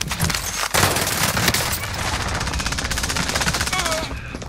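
Rapid, sustained automatic gunfire in the Call of Duty: Modern Warfare video game, a loud, dense stream of shots with overlapping bursts and booms continuing throughout.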